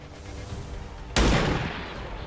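Gunfire hits a trooper in the video game XCOM 2: a single sharp, loud burst cuts in sharply over a steady background hum, then rings out and decays over about a second.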